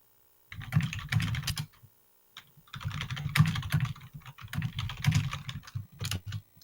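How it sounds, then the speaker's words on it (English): Computer keyboard typed on in quick, thumping bursts of clattering keystrokes, with short pauses between flurries, close and clear with no talking. "Keyboard thumping."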